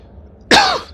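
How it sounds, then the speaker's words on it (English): A single sharp, loud cough from a person, bursting out abruptly after a quiet stretch and trailing off over about half a second. "it's just this episode's gonna be nothing but me coughing"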